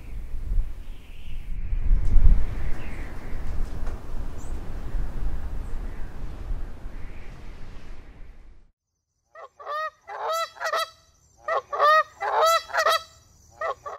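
After a long stretch of blowing wind, geese burst into a series of loud, nasal honks in quick clusters, close by and alone, with short pauses between the calls.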